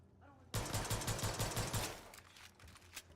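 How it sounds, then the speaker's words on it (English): Gunfire comes as a rapid burst of about eight evenly spaced shots, fairly faint and distant, fading into a rough tail after roughly a second and a half. "Gunshot. Hear it?"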